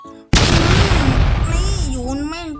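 A loud burst of gunfire opens abruptly in the Supreme Duelist Stickman mobile game, landing a headshot in a stickman card duel, then trails into a dense crackling game soundscape with a rising, warbling tonal effect beneath it.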